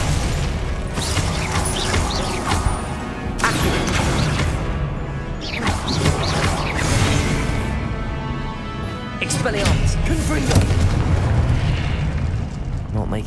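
Spells burst and explode in a Hogwarts Legacy fight, with rumbling booms and crashing impacts in quick succession over dense game noise, and a voice speaks at times.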